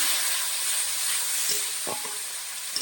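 Spice paste of coriander powder and dry chilli powder with a splash of water frying in a pan for a tilapia curry, a steady close hiss and sizzle with a couple of soft scrapes near the end.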